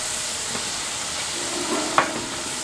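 Garlic butter fried rice is stirred in a hot pan, with a steady close sizzle, soft scraping and a single sharper clack near the end.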